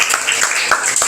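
A classroom of students claps for a presenting student group, a brief burst of dense, close hand claps filling the short moment.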